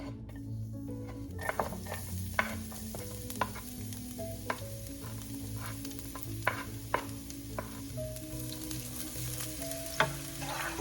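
Chopped garlic fries in oil in a pan for string beans adobo with ground pork, giving a steady close sizzle broken by sharp clinks and scrapes of a utensil stirring against the pan.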